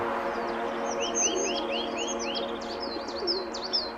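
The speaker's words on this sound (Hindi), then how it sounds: "दोस्तों ये है समुद्री कबूतर बेतारीक।" A sea pigeon calls with a run of quick, high chirping notes, repeated close by over a steady low hum.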